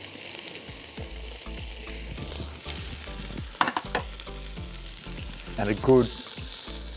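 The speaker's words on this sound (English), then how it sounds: "Stir that through for about 6 to 8 minutes." Chopped red and green capsicum, celery and onion stirred in a hot pan with Cajun seasoning, giving a steady sizzle with spoon scrapes and knocks throughout, louder clatter near the end, and a brief spoken phrase.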